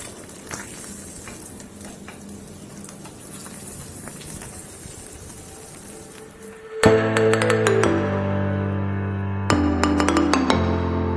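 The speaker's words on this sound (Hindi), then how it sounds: "इसी तरह से बाकी के फिश को भी मैं फ्राई कर लूंगी" Fish frying in a pan in a home kitchen, a steady crackling sizzle and patter running underneath, then overtaken by loud ringing tonal sounds in the later part.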